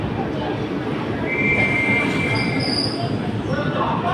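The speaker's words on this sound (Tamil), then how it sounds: "தஞ்சாவூரிலிருந்து மயிலாடுதுறை வரை செல்லும் லோக்கல் ட்ரெயின் இப்பொழுது கும்பகோணம்" A local passenger train running from Thanjavur to Mayiladuthurai rolls into Kumbakonam railway station, steady wheel rumble under high, drawn-out brake squeals from the rails, close and loud.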